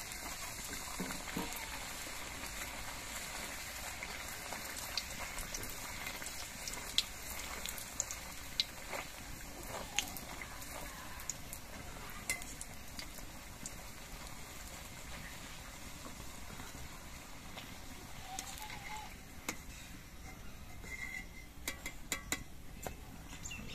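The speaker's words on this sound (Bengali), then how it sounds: "এবার এই ঘিয়ের মধ্যে আমি লুচিগুলো ভেজে নিচ্ছি।" Small luchi fry two at a time in hot ghee, a faint steady bubbling hiss with scattered light crackles and occasional ladle taps, quiet and close with no talking.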